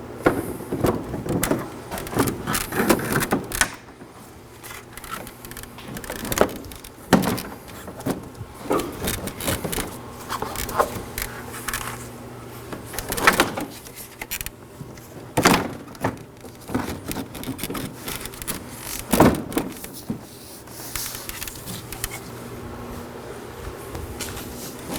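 A plastic front bumper cover being refitted on a 2013-2019 Nissan Sentra, with scattered knocks, rubs and sharp snapping clicks as the tabs seat, coming in irregular bursts up close.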